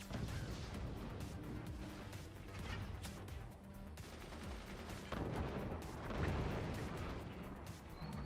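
Mortar fire in the video game Moonshot during a tournament final: a dense, continuous barrage of booming blasts and crashing impacts, loud and layered throughout, with no speech over it.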